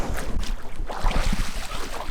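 Ocean waves churn and wash against rocky shore, a steady rough roar of surf with wind buffeting the microphone throughout, close and loud with no voices.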